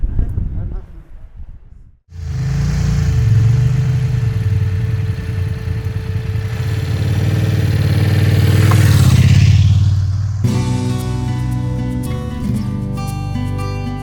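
Motorcycles on a two-hour road trip to Ronda, Granada: a loud, steady engine drone with revving swells under wind, then music takes over near the end.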